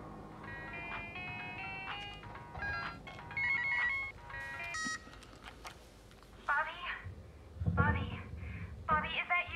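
A cell phone rings with a repeating electronic tone for several seconds in a room where people are trapped after an aftershock, followed by voices talking over it.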